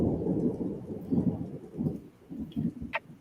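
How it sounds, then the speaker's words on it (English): Rumbling thunder in the Dwarf Fortress video game, a low rolling grumble in several soft surges over a few seconds, fairly close and heard alone. "I don't like that thunder noise."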